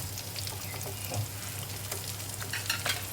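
Pork skin deep-frying skin-side down in oil at low temperature, a dense steady bubbling sizzle with small pops, continuous and close throughout.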